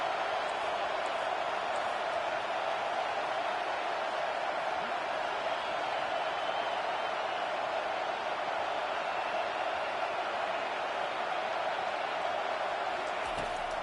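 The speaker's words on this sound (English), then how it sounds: "Now the crowd responding in the red zone" Stadium crowd at a Miami Hurricanes versus Clemson college football game, a steady loud roar of cheering and noise held evenly throughout, filling the air without pause.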